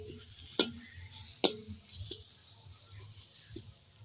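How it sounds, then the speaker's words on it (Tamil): Grated coconut being stirred as it dry-roasts lightly in a pan on the stove, heard as a few sharp scraping clicks and ticks of the spoon against the pan with quieter rustling between, fairly close and faint. "முதல்ல தேங்காய் பூவை லைட்டாக வறுத்தெடுப்போம்"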